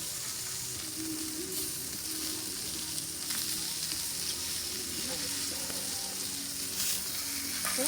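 Bratwursts pressed flat and browning on a Blackstone griddle give a steady, close sizzle with a faint low hum underneath, holding even and unbroken throughout.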